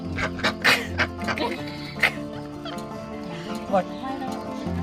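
Several ducks quack loudly and repeatedly nearby, harsh overlapping calls with a few louder bursts, with some voices mixed in underneath.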